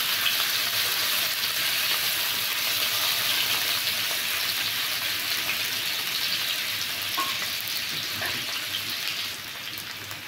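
Chicken frying in desi ghee in a kadhai, a loud dense sizzle that holds steady throughout, with a couple of faint stirring knocks late and a slight easing at the end.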